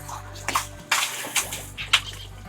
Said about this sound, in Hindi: 30-35 साल बाद कुएं के पानी से नहा रहा हूँ।